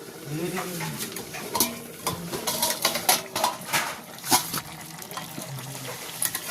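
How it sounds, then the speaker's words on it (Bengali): Someone handles a pan of pea ghugni, with metallic clinks and a lid clatter over steady sizzling and stirring, nearby and moderately loud, without speech. "এখন দশ মিনিট হয়ে গেছে আমি এই ঢাকাটা খুলছি"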